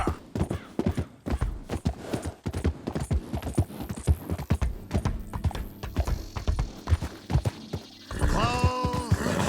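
Horse hooves galloping in Red Dead Redemption 2, a fast, steady close clip-clop that keeps going throughout, joined near the end by a whinny and other game sounds.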